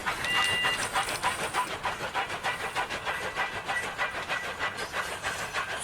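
Wooden toy railway engine Billy puffing away, a rapid rhythmic chuffing with hissing steam bursts that runs steadily and fairly quietly, with no voices over it.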